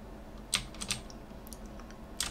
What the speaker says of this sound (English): click P on your keyboard